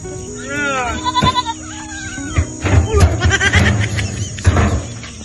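A goat bleats a few times near the start, followed by people chattering and calling out nearby.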